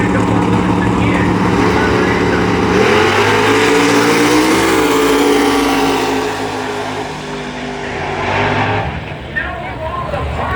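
Drag racing cars at Bradenton Motorsports Park, including a Pontiac in the left lane, roar loudly as engines rev and accelerate past, with a commentator talking over the continuous engine noise that eases off near the end.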